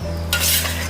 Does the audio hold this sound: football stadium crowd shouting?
no